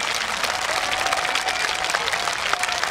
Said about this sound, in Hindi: हाथ ऊपर करके पूरा स्टेडियम गूंज जाए इस तालियों की गुनगुनाहट में।